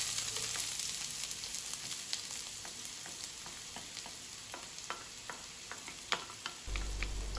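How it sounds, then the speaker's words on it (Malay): Chopped onions sauté in hot oil with a bright, crackling sizzle dotted with sharp pops and spatters, fairly quiet and close, alone without any voices. "Bila minyak dah panas, bolehlah masukkan bawang yang dicincang tadi."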